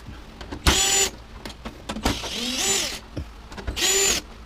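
A power tool whirs in three short, loud bursts as it backs screws out of a washer/dryer combo being scrapped, with quieter clicks and handling noises between the runs.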